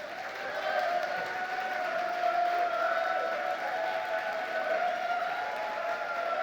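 A live audience claps steadily for a university education achiever group, a dense, sustained wash of applause filling the hall from start to finish with no break.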